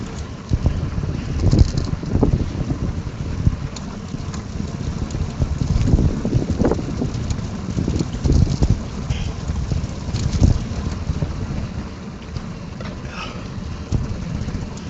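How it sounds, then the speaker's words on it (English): Wind buffets a microphone outdoors on a road trip in a steady, gusting rush, low rumbling pulses rising and falling over about fifteen seconds with no talk. "I can feel the wind at my back now."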